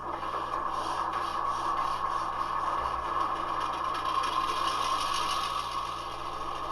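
An HO scale model diesel locomotive sound unit starts up and settles into a steady idle at an engine house on a model railroad, a continuous close mechanical hum and rumble with faint rhythmic pulsing.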